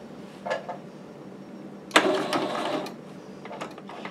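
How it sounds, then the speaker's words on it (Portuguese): Sewing machine stitching elastic onto a baby romper, heard in a short whir early on and a longer rattling run of stitches midway, with brief bursts near the end. "Esse pedacinho eu vou dar, uma entradinha aqui com a costura para segurar."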